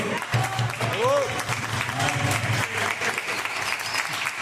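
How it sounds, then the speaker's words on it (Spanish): A crowd at the Devir Fest board game event in Buenos Aires claps enthusiastically throughout, a dense continuous wash of applause with a few cheers and a voice calling out over it. "A ver, un aplauso, por favor. ¡Bravo!"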